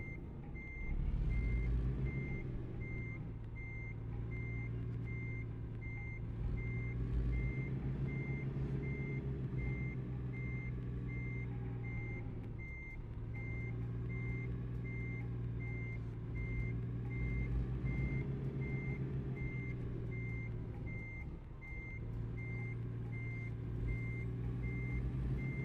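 A truck backing up sounds its reversing alarm, a steady series of evenly spaced high beeps over a constant low engine rumble, loud and close, with no voices for the whole stretch.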